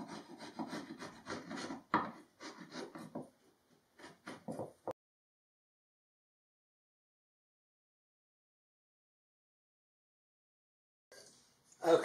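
Hardened glue is scraped by hand off a wooden board in short rasping strokes, several quick bursts close by, then a long silence before one final scrape.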